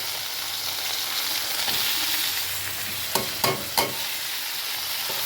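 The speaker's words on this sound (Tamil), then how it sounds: "இவ்வளோ தக்காளியும் கொட்டி போடுவோம்." Tomatoes tipped into a pan of brinjal already cooking, a steady frying sizzle with a few soft stirring knocks near the end, close and without talk.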